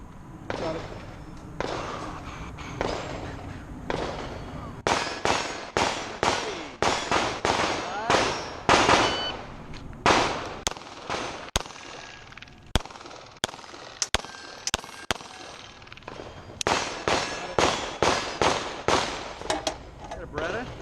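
Rapid pistol shots from a Beretta 92 Wilson Combat at an outdoor steel-target shooting stage, firing in quick bursts of sharp, loud cracks with brief pauses between strings, some faint metallic target hits and background chatter.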